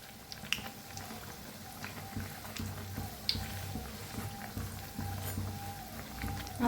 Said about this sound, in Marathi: बाहेर पाऊस बी छान असा पडायला लागला